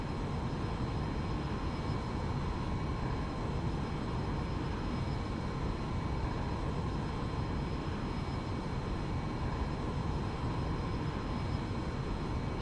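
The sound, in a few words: aircraft in flight in the X-Plane 11 flight simulator video game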